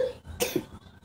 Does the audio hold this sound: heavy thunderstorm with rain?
no